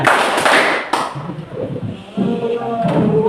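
A classroom of students claps together in the 'tepuk siang' clapping game, with a few sharp bursts of claps mixed with children's voices and a teacher's chatter nearby.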